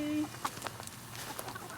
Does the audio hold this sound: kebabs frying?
no